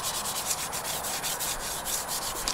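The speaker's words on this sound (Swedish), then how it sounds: "vi fortsätter att polera och putsa här liksom då" A car is being polished and cleaned by hand in a garage before a car show, giving a steady, close, continuous rubbing and buffing hiss with no talking.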